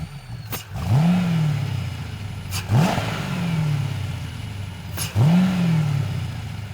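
A Chevy V8 engine-swapped Porsche 911 GT3 R, four-wheel drive, revving in three sharp, loud blips. Each rev rises quickly and falls back to a rumbling idle, about every two seconds, close by and with no talk over it.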